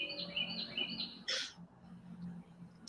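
Birds sing in the Tampa region of Florida. Quiet, repeated high chirps give way to a sharper single call, over a low background hum.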